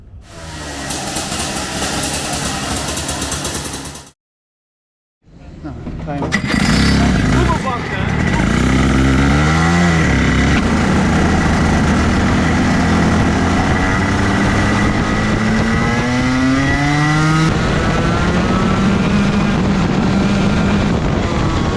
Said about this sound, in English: welcome back aboard the LN kart from last year